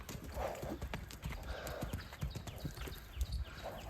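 Horses trotting with a steady clip-clop of hooves, joined by an occasional whinny, against a busy outdoor background at a moderate distance.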